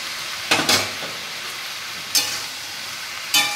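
Fried lentil dumplings are stirred into softened cooking vegetables in a pan, giving three short scraping bursts separated by quiet gaps, close and moderately loud.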